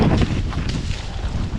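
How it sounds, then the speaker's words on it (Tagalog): Wind blows hard across an outdoor site in Bulacan, a steady close roar buffeting the microphone with no talk over it. "Wow, ang sarap ng hangin."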